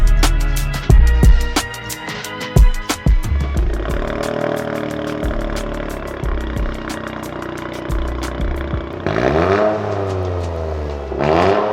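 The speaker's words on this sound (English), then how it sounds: "This GR Corolla is sounding so much better with the new Borla ATAK Catback exhaust" Toyota GR Corolla fitted with a Borla ATAK catback exhaust, revving hard in repeated sharp bursts, then holding a steady loud drone before two more rising revs, close and alone.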